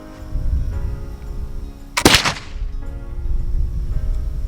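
A single sharp crack from a Kibler southern mountain muzzleloading rifle while sighting in, loud and close, with a brief ringing decay over a low outdoor rumble.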